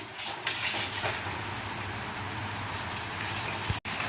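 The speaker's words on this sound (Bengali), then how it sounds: "টক দইটা দিয়েও আমি আরও 1-2 মিনিট নাড়াচাড়া করব" Yogurt being stirred into masala in a pan for fried paneer masala: a steady sizzle with soft scraping and stirring scrapes throughout, and no talking.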